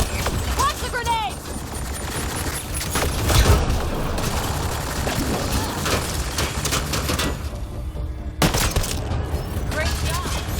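A grenade launched and exploding in the sci-fi video game Mass Effect Andromeda, amid a firefight of rapid gunshots and heavy booms over a rumbling ambience, with a voice speaking among the blasts.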